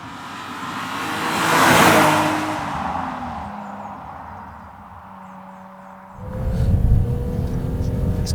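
A naturally aspirated BMW Z3 M Coupe engine revs and swells to a rumbling peak, eases off, then surges again into a loud, close, low-pitched roar.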